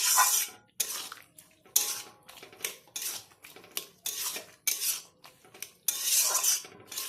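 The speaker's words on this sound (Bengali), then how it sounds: "চিনি গরম মশলা দিয়ে আবারও একটু নেড়ে চেড়ে নেওয়া হচ্ছে।" A spatula stirs ridge gourd and potato curry in a metal pan after sugar and garam masala go in, giving repeated scraping bursts with short pauses between them, close and fairly loud.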